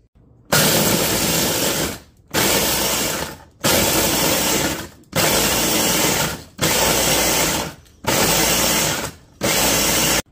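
Food processor crushing Oreo cookies into fine crumbs, running in seven loud pulses of about a second or more each, separated by brief silent pauses, with no talking.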